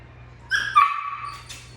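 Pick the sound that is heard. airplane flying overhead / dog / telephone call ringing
dog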